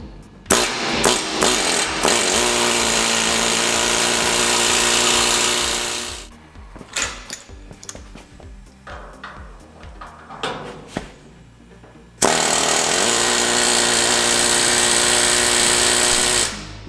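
A rivet gun drives body rivets into a derelict 1931 Ford Model A Victoria against a bucking bar, two long, loud, rapid hammering bursts with a quieter stretch of scattered taps and clanks between them.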